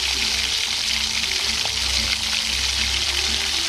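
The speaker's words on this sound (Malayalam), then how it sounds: "ഇത് നമ്മൾ ചൂടുവെള്ളം ആട്ടോ ഒഴിച്ചു കൊടുക്കുന്നത്" Hot water poured into spicy masala frying in a pan for a Kerala-style mushroom curry, giving a steady loud sizzle and bubbling hiss that runs without a break, with no talking.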